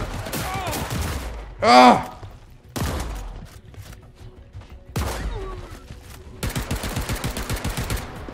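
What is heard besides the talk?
shotgun gunfire in video game Paint the Town Red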